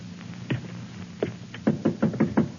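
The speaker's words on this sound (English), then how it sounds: "to answer the violent pounding on the outer door" Violent pounding on an outer door in an old-time radio drama: a few scattered knocks, then a rapid run of five or six heavy thuds near the end, close and distinct over a quiet background.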